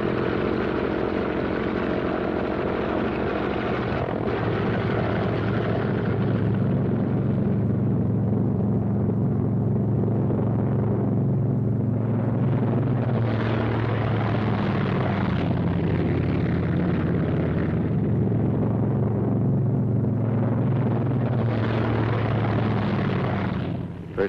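Military aircraft taxiing out in pairs along an airfield, a steady loud engine rumble and propeller drone that swells and fades as each pair moves past, with no talk over it.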